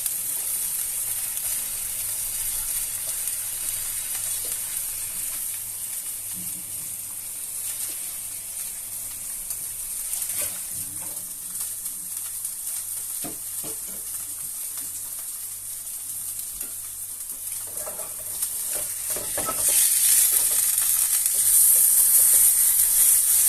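Rice frying in a pan sizzles steadily and hisses, with occasional scraping as it is stirred, the sizzle swelling louder near the end.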